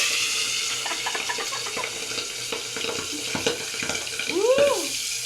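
Soaked food fries in a pan with a steady crackling hiss, broken by scattered sharp pops and spits and a brief whistling squeal near the end, all fairly close with no talking.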